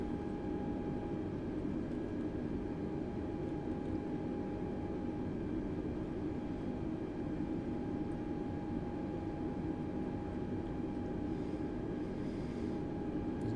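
An Airbus A320neo taxiing to the gate in Microsoft Flight Simulator 2020, a steady, even jet engine hum and whine that holds constant throughout without change, fairly quiet and with no voices.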